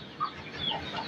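A hen with newly hatched chicks clucks in a village yard, a few short, soft calls spaced over about a second against faint background noise.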